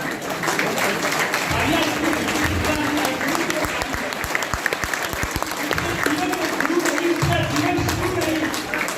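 Hearty applause from a seated audience at a motivational event honoring gurus, a dense steady wash of clapping that holds throughout, with a speaker's voice faintly mixed in underneath.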